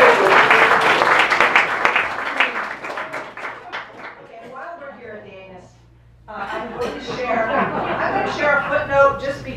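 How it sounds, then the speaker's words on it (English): A book-talk audience breaks into applause, dense clapping at first that thins and fades, then swells again with mixed laughter and chatter from the crowd. "a brief round of applause for the human anal sphincter"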